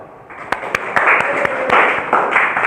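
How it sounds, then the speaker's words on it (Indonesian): Applause for a school group presentation in a classroom, with a crowd clapping steadily and fairly loudly, some sharp individual claps standing out, and faint voices underneath. "kasih tepuk tangan untuk kelompok 2"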